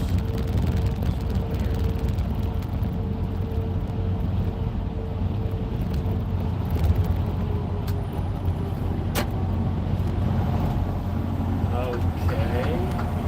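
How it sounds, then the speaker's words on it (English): Continuous road traffic rumble with passing vehicles and engine drone, heard from inside a moving car on a Monday afternoon drive toward Burley, Idaho, with steady low noise throughout. "Where'd all this traffic come from?"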